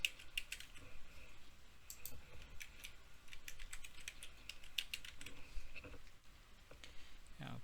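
Keys on a computer keyboard are tapped in irregular bursts while a password is entered on a server, producing light, close clicks with short pauses and a faint room hum beneath.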